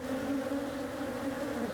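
Bees swarm around a beehive baited with beeswax, a steady, droning buzz with a low hum under it, moderately close, continuing alone without talk.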